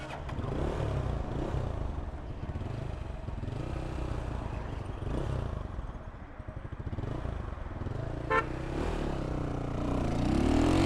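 A 150cc motorcycle engine runs steadily and close by in a Jamaican bike-life setting, with a continuous rumbling drone that dips slightly before rising again near the end.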